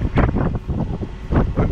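Strong wind of about 30 knots buffets a sailboat leaving Vistamar Marina, loud gusty rushing and microphone roar swelling and easing in irregular bursts up close.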